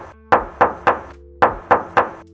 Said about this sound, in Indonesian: Kita tes ketok dulu ya.